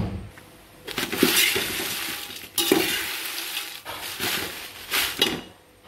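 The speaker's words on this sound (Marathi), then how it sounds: "अशा प्रकारे आपल्याला मिरच्या भाजून घ्यायच्या आहेत." Chillies roasting in a pan over medium heat for a Solapuri black masala, with dry crackling and scraping from stirring that swells in three or four louder bursts against a low background.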